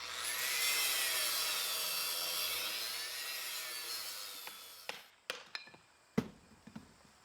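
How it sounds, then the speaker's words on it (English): The top of a chimney flue is cut off level with the chimney on a homestead: a loud, steady cutting drone runs for about five seconds, then stops, followed by several sharp knocks and clanks. "He is now cutting the top flue off to be level with the chimney."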